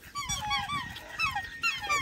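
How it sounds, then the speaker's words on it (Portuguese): A black goose honks repeatedly in short, nasal calls close by, outdoors, with a few overlapping bursts across two seconds. "Ganso preto."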